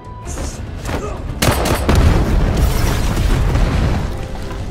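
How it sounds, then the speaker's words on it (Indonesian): A bag bomb explodes in a film scene: a heavy, booming blast erupts and rolls on into a long rumbling roar that slowly fades, loud and close. "melemparkan tas bom ke Steve, menyebabkan ledakan dahsyat yang menewaskan semua pria di dalam"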